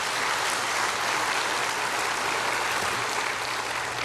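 Steady, dense applause from a church congregation during a sermon, a continuous wash of many hands clapping at even loudness throughout with no voices standing out.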